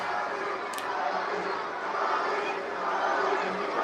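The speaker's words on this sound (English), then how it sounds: "Hear this crowd exulting, giving support to Cody Rhodes, the American Nightmare" Arena crowd noise at a WWE Friday Night SmackDown broadcast, a steady wash of cheering and chatter holding at an even level throughout, with no distinct commentary voice on top.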